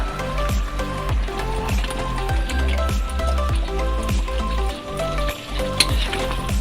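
Chicken stirred in a pan of corn cream sauce, giving a steady close sizzle and bubbling with a rhythmic scrape of the spoon repeating throughout.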